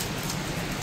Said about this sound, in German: Tropft schon rein, Scheißzeug.